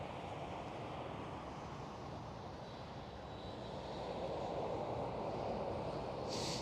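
An easyJet Airbus A320neo at Schiphol airport makes a faint, distant jet rumble that swells slightly toward the end.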